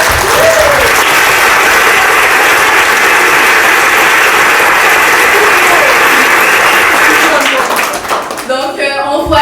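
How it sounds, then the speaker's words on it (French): Loud, dense applause from guests at a 50th birthday party fills the room without pause, with voices and cheers mixed in, before it tapers off at the very end. "Moi, je pense qu'on va l'avoir applaudi."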